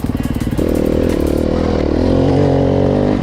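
A motorcycle engine revs hard during a wheelie, opening from choppy pulses into a sustained loud, close roar that holds steady for a few seconds.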